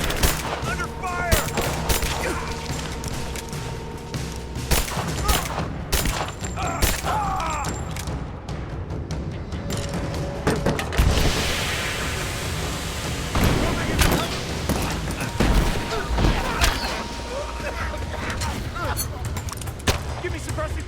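Gunfire rattles through a Rise of the Tomb Raider firefight, with repeated shots and bursts, some near and loud and others farther off, against a busy battle backdrop where voices call out intermittently.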